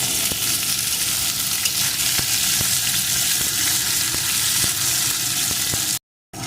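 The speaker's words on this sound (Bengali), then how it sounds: "তেলটা গরম হয়ে গেছে এখন এর ভিতরে আমি ফুলকপির ডাটাগুলোকে দিয়ে দেবো সাথে দিয়ে দেবো একটু লবণ এখন ডাটাগুলো একটু ভেজে নেব" Cauliflower stalks fry in hot oil with salt, a steady close sizzle with scattered crackling pops running continuously before a brief silent break near the end.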